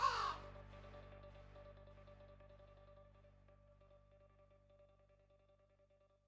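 A single harsh crow caw rings out at the start, then fades into a long, steady hum with faint tonal ringing.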